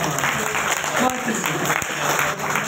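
Short burst of audience clapping at a Ghalib Academy mushaira in Delhi, a dense close patter for a few seconds with voices mixed in.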